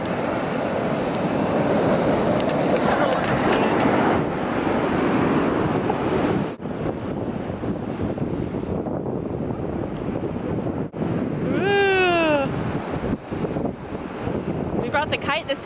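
Wind roars steadily against the microphone over crashing surf, with a brief series of high whistling calls near the end.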